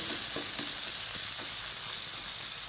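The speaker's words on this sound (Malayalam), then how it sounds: "തുറന്ന് വെച്ചിട്ട് തന്നെ ഒന്നും കൂടെ അങ്ങോട്ട് വഴറ്റിയെടുത്താൽ മതി" Softened tomatoes sauté in an open pan for Kerala egg roast, giving a steady, fairly quiet sizzle with faint stirring scrapes and a brief clack at the very end.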